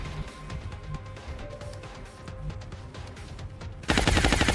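Rapid automatic gunfire in the XCOM video game during a run-and-gun attack, a steady rattling burst that swells suddenly louder and denser toward the end.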